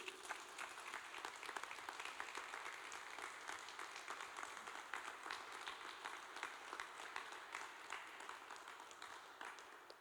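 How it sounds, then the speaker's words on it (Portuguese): A church congregation at a Sunday worship service applauds, dense continuous clapping from many people filling the room at an even level throughout, with no voices rising above it. "Uma salva de palmas para Jesus."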